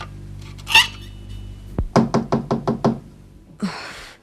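Door knocking in a children's storybook tale: one sharp knock, then a rapid run of six even raps, close and loud, followed by a brief rustling scrape.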